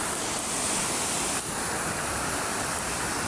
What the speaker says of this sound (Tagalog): ito yung tubig na malakas